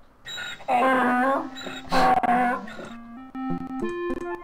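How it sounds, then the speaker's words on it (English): A donkey in the 1993 PC game Kids Zoo brays in rising and falling honking bursts, loud and close, followed by a series of stepped, tonal notes. "A donkey goes."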